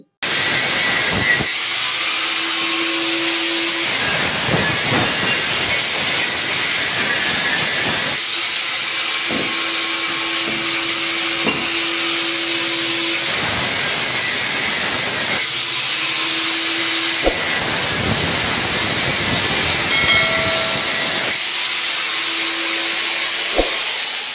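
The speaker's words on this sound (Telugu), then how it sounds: "ఆ బోల్ట్‌ని మనం కట్ చేయాలి" Bolts on a copper or aluminium water motor are cut with a power cutting tool, a loud continuous whining grind that drops out briefly several times before starting again, close and harsh.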